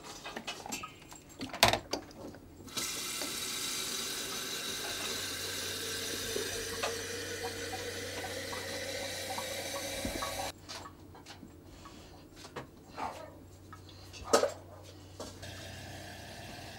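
Tap water runs steadily into a sink in a mold-damaged apartment, a continuous close rush lasting several seconds before shutting off, with scattered knocks and handling noises around it.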